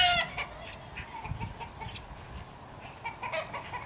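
Chickens in the old city of Södertälje cluck in a scattered, steady chatter of short calls over light background noise, with no talking.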